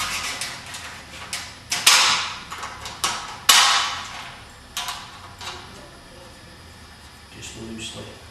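Sharp metallic knocks and clacks from fitting and bolting parts onto an under shroud from below, irregular bursts of close, loud impacts with scraping between them, fading toward quieter handling noise at the end.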